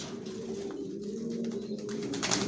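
Racing homing pigeons of Johnson bloodline coo softly in a loft, low repeated throaty calls over a steady background hum, close and continuous.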